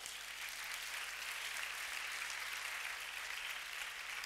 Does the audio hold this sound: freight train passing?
no